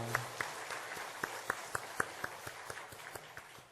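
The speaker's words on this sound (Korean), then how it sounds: "우리가 큰 박수로 환영하겠습니다" A church congregation gives a sparse round of applause to welcome new members, with scattered distinct claps over a quiet room and a low hum underneath.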